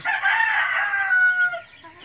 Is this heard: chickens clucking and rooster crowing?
yes